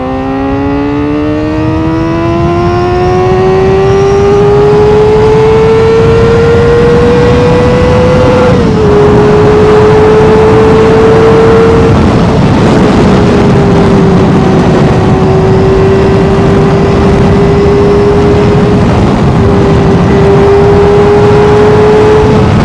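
Kawasaki ZX-4R four-cylinder motorcycle engine revving up toward its 16,000 RPM redline, a loud rising screaming wail that climbs steadily, then holds near the top with brief dips as it shifts, close and continuous.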